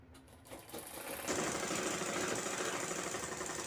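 Sewing machine stitching a piping strip for a handbag, starting with a few short bursts and then running continuously in a fast, steady whir that stays close and fairly loud.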